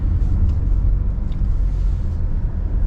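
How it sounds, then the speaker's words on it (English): A car drives slowly through Adelaide Airport in South Australia, heard from inside as a loud steady low engine and road rumble with no talk. "as I'm driving through the airport here"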